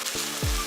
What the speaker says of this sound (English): I'm going to stir fry this for a minute or 2